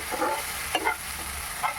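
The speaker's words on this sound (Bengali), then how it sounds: "টমেটোটাকে দিয়েও আবার ভালো করে নেড়ে চেড়ে দিচ্ছি" Ground tomato paste is stirred in a hot pan while frying, with a low steady sizzle under a few scraping strokes of the spoon, close by and with no talk.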